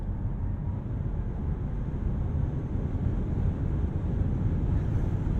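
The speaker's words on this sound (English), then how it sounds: "You just have that wind noise, and there's not a lot of it to tell you that your speeds are getting to be ridiculous very quickly." Wind rushing around a 2022 Audi e-tron GT Performance Pack heard from inside the insulated cabin while driving, a steady low roar with dull rumble, even and continuous, with no talking.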